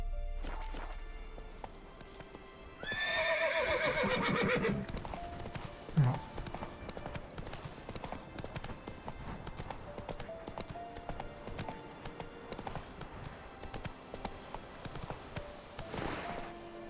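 Geralt's horse Roach in The Witcher 3 clip-clops along at a steady, quick gait for most of the stretch, moderately close, under game music, with a whinny-like sound early on and a few louder thuds.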